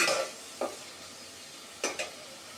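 A spice paste for a beef and potato curry fries in a pan, a soft sizzle broken by a few sharp scrapes and clinks of a utensil stirring against the metal, fairly quiet, with no talking.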